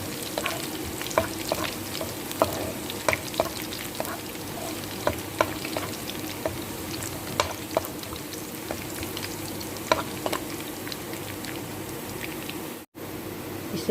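Garlic sizzling in a pan, a steady close frying hiss dotted with frequent small pops and crackles, no voices, with a brief dropout near the end.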